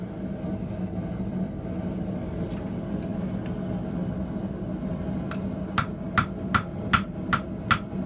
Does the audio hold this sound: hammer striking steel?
yes